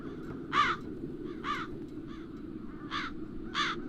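Crows cawing in The Dark Eye game, five separate harsh caws spaced about a second apart over a low ambient rumble, fairly clear and moderately near, with no talk.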